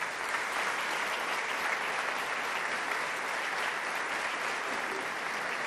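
A large audience claps at the inaugural ceremony of an institution's centenary, producing a dense, even roar of applause that holds steady from start to finish with no talking.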